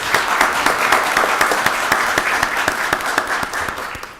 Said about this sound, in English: let's give Pastor Brown another round of applause.